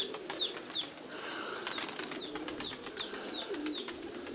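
Pigeons, among them a young red winter bird, fill the space with soft cooing, a string of short, faint chirpy calls repeating every few tenths of a second, and light fluttering from nearby birds.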